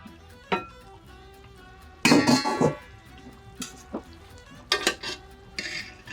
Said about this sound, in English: now we're gonna take our calamari out of the sauce